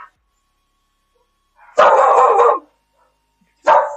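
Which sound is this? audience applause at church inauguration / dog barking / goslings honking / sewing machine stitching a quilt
dog barking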